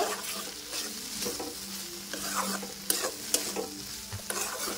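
A soybean and potato curry is stirred in a hot pan, sizzling continuously with repeated spoon scrapes and clinks close by.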